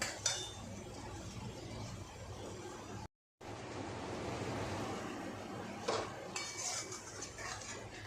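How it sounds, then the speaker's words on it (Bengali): Jackfruit curry (dhokar dalna) is stir-fried in a pan after water goes in, with metal spatula clinks and scrapes over a low, steady simmering hiss. "আমি অল্প জলও দিয়ে দিচ্ছি দিয়ে এবার ভালো করে কষাবো"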